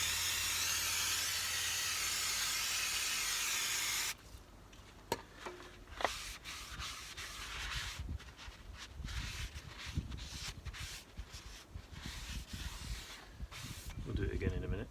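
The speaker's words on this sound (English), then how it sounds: "so using the brake cleaner" Brake cleaner sprays onto a dirty brake disc of a MK3 Ford Mondeo as a loud, steady hiss for about four seconds. It then stops, giving way to quieter handling clatter and small knocks nearby.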